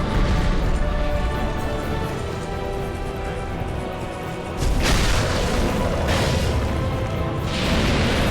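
The Old Knight boss in a video game unleashes a fire breath attack, a loud continuous roaring blast that surges again partway through with heavy booming rumble and no talk.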